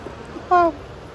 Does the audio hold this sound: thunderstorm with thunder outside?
no